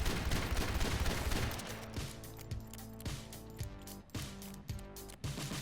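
Ashe's lever-action rifle in Overwatch fires a fast series of sharp shots, each click-fired round landing in a quick, slightly uneven rhythm with metallic ring, close and loud over a steady game backdrop.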